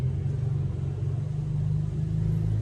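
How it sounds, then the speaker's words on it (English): A loud muscle car passes close by with a deep, steady low-frequency engine rumble that holds strong throughout, with no talk over it. "That's a muscle car going by."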